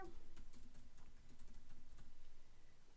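Fingers tap out a short burst of quick, light keystrokes on a computer keyboard, close and quiet, the clicking trailing off near the end.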